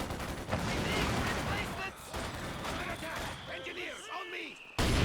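Mortar blasts and machine-gun fire crackle through a Company of Heroes 2 battle, a busy stream of distant gunshots and thuds while a commentator talks over the action.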